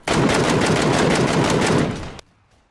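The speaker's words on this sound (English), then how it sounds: "it sounds like a cannon, it kicks like a mofo. This is definitely a real deal sniper rifle" A PUBG sniper rifle fires in a loud, dense burst of cracking shots lasting about two seconds, then cuts off abruptly into near silence.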